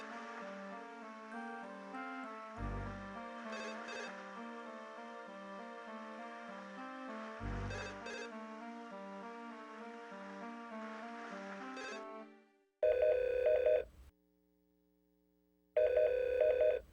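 In the video game Tex Murphy: Overseer, an old-style telephone bell rings twice in short bursts near the end, following a stretch of ambient game music with low booming hits.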